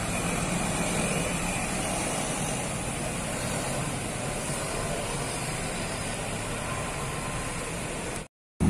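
A Savana tour bus rolls past at Galendo 2 in Ciamis, its engine drone steady and fairly loud for about eight seconds before cutting off abruptly.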